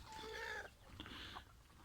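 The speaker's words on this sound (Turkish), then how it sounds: "İspenç horozumuz da devamlı ötüyor sağ olsun." Faint farmyard clucking and a short rooster call from a henhouse, heard from a distance against a quiet outdoor background.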